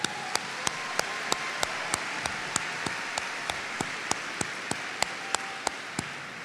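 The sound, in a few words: applause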